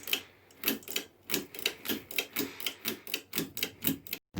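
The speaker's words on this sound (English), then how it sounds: "That kind of sounds like me pulling this light bulb." Foley sound of a light bulb being pulled and twisted, giving a rhythmic series of about a dozen close, scratchy squeaks and rubs, evenly spaced and fairly quiet, with no talking.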